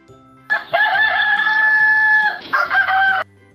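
A loud, close rooster-like crow rings out in one long drawn call, then a shorter second burst, with nothing else around it.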